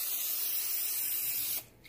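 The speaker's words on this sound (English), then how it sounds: "I literally forgot to spray it." Cooking spray hisses from an aerosol can onto a pan while grilled cheese is being made, a steady close spray lasting about a second and a half before cutting off abruptly.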